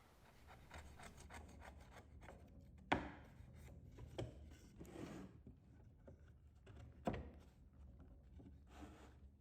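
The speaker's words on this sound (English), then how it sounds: "I use my chisel to flatten the bottom of the cuts and then test the fit." A steel chisel pares and scrapes the bottom of cuts in wood for a simple love seat, giving soft rasping strokes with a few sharper knocks close by, and no voices.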